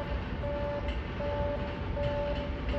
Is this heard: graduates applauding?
no